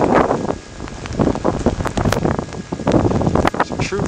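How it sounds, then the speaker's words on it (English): Blizzard wind on Staten Island with heavy snow falling and deep drifts, loud gusty roaring and buffeting across the microphone, continuous and close with rustling bursts throughout. "The wind is kicking up."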